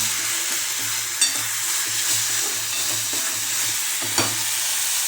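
Vegetables sizzle steadily as they fry in a pan, with a constant hiss throughout, periodic scraping stirs, and two sharper clanks of the spoon against the pan.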